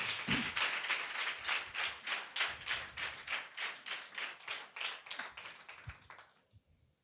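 A congregation at an evening fasting prayer meeting claps hands loudly in a steady, fast rhythm, a dense run of sharp claps that carries on for several seconds before tapering off at the end.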